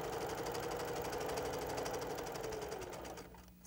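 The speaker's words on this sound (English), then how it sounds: "I'm going to sew all the way down" Sewing machine stitching a quilt along a diagonal line, a loud, fast, steady mechanical whir with regular needle pulses that slows and fades near the end.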